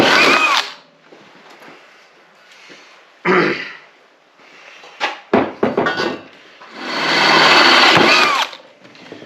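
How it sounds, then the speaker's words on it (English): A power drill whirs in several separate bursts of different lengths, with quiet pauses between them as it bores half-inch holes through metal. "I'm going to drill a 1/2 inch hole on each side"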